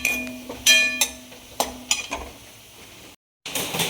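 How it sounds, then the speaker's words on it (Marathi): A soybean vegetable curry cooks in a pan with a soft sizzle. A utensil clinks and scrapes in irregular stirring strokes, close by, with no voices and a short gap of silence near the end. "इथे मला सोयाबीनची भाजी बनवायची आहे."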